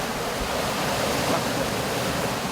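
Large ocean waves crash continuously onto an Indonesian shore where seaweed is harvested, a loud, unbroken roar of surf with wind rush and no distinct breaks.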